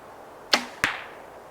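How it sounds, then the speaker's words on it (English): A PSE X-Force Axe 6 compound bow releases with a sharp snap, followed a split second later by a solid thump as the arrow hits, with nothing else around. "Let's go ahead and shoot this bow, see how it feels"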